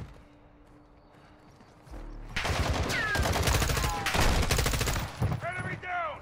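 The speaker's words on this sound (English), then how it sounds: "I heard more gunshots and I couldn't figure out where they were" Bursts of rapid gunfire break out in the video game Modern Warfare 2 after a quiet lead-in, dense and loud with whizzing ricochets layered through the shooting.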